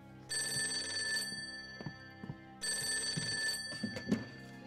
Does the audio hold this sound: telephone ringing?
yes